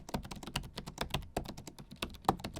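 Fast typing on the keyboard of a cheap Acer gaming laptop that has a numpad: a rapid, close run of crisp key clicks and taps with an uneven rhythm and no talk.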